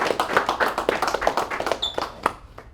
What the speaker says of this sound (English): Let's clap it up for John.